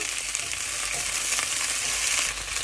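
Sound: okra pieces frying in oil in a pan

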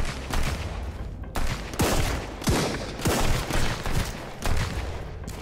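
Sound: gunfire in the video game Sunkenland

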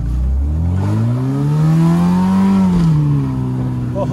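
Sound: rusty Honda Civic engine driving

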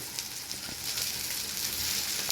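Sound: fritters frying in oil

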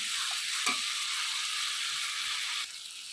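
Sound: stirring and frying capsicum in spice masala

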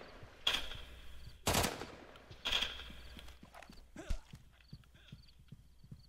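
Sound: gunshots in the video game BlackLands

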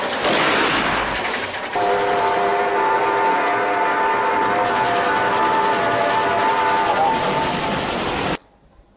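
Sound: steam train running

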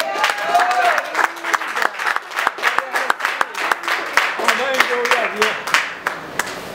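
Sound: church congregation applause for the Lord

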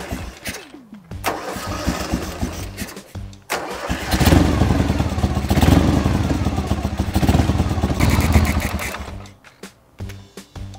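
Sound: Ural Volk motorcycle engine starting and running

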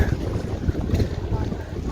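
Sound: strong wind blowing on a boat

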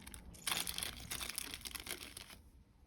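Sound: taking plastic parts out of a mechanical keyboard box

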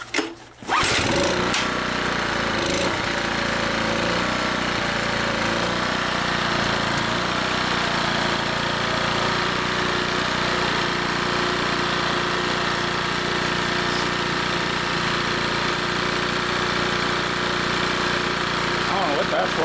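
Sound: Mercury 70 hp two-stroke outboard engine running

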